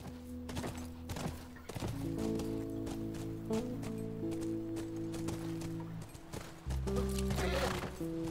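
A horse in the video game The Last of Us whinnies and snorts over a tonal music bed, with scattered hoof thuds and clops, moderately close and clearly audible.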